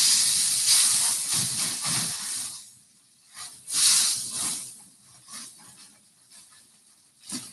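A steak sizzles and hisses loudly in a pan of brown butter, the searing rising in bursts and fading to quieter crackling between surges, close and without talk.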